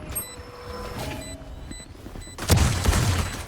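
Gunfire in a shooting video game, a few scattered shots early on, then a loud burst of rapid fire near the end, close and punchy over background game sounds.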